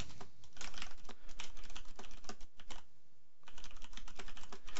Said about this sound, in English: All right, and you'll notice as I'm typing,